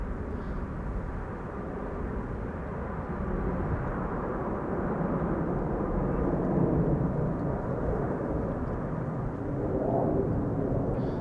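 An airliner arriving at Amsterdam Schiphol Airport on a sunny day, slats and flaps extended, gives a broad, steady rumbling roar that swells gradually and stays loud throughout, with no voices.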